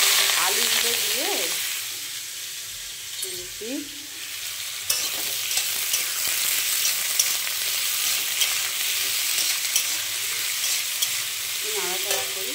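Potatoes fry in hot oil tempered with black cumin and dried chili, a steady loud sizzle close up, with a spoon stirring and scraping through the pan now and then.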